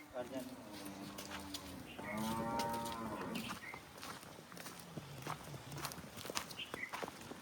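A crossbred dairy cow walks with slow hoof thuds and gives one loud, drawn-out moo close by. Faint human voices murmur in the background.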